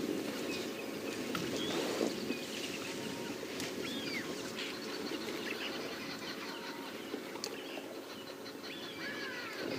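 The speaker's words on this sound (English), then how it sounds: "I'm just going to be quiet for a second and just try and hear the different birds" Various wild birds call and chirp around a safari vehicle in the bush, scattered faint chirps over a steady low hum, with no talking.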